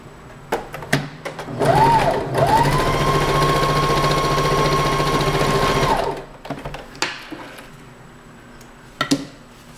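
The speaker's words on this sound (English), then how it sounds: "I'm just going to top stitch it because you're not going to see it." A sewing machine top-stitching a fabric bow runs in one steady, loud, whirring burst for about four seconds, with brief clicks and handling noises before and after.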